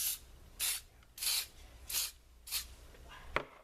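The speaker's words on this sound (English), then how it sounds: "We're going to just spray." Short bursts of acid-free, photo-safe spray adhesive from an aerosol can, five separate hissing sprays at a steady rhythm with brief pauses, close and fairly quiet, followed by a small tap.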